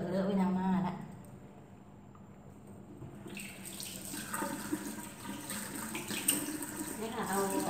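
Water runs and splashes from a tap into a sink as a face is washed with rose soap, a steady close rushing that swells after the first few seconds, with someone talking over it at the start.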